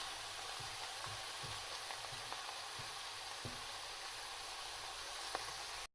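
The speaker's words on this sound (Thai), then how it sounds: "แล้วก็เคี่ยวเบา ๆ นะคะ นี่ค่ะโอ้เคี่ยวเบาๆเคี่ยวไปเรื่อยๆเลยค่ะ" Thai boat noodle soup broth simmers gently in a pot, a faint steady hiss with soft scattered bubbling pops, no voices.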